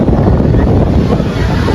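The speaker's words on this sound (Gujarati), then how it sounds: "પવન કેવો મસ્ત આવે છે" Loud wind buffets the microphone outdoors at a seaside temple in Mahuva, a constant low roar with a faint wash of sea behind it.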